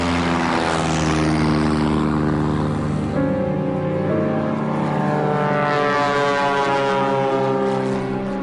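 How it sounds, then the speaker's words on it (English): A Piper Cherokee light propeller airplane drones steadily with strong harmonic engine tones, loud and close throughout, the pitch shifting slightly midway as it passes. "Kramer bought his first airplane, a stylish and swift Piper Cherokee"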